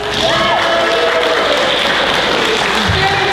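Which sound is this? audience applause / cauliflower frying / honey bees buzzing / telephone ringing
audience applause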